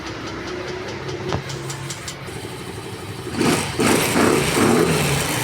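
A Yamaha Mio Gear scooter, serviced for an ignition IC and fuel pump fault, cranks with a few ticking clicks, then its small engine catches and runs with a rising, busy close-up drone.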